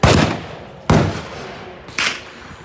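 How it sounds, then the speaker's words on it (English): Three sharp, loud Glock pistol shots at a shooting range, each a hard crack with a short echoing decay, spaced about a second apart and with no voices. "it was the Glock he shot"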